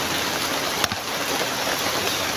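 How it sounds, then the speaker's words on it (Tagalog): Steady rain pours down during a wet night outing, a dense continuous hiss filling the whole stretch with one brief louder tap near the start. "Kahit umuulan, talagang basang-basa na ako talaga bro"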